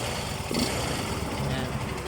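A small engine with a noisy connecting rod runs close by at a steady idle with a rough, rumbling knock, and someone talks over it.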